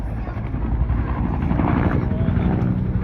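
A helicopter at an air show, heard as a loud, steady rotor rumble with wind buffeting the microphone, close by and without a break across the few seconds.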